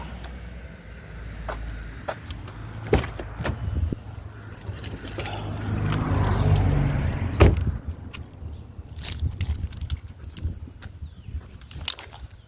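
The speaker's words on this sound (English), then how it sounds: "Oh, damn it, I didn't grab my keys." A bunch of keys jangles in bursts during car battery work on a vehicle, with metallic clinks and rustling over a low engine-bay hum, mid-loud and close, with no talk.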